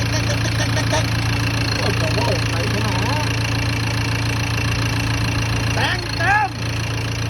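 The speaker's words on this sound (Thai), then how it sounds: "เสียงเครื่องนี่เหมือนจะพังเลยครับพี่น้อง เอาฟังดู" A modified Ford pickup's engine idles with a rough, uneven mid-pitched rumble, loud and close, while someone talks over it in places.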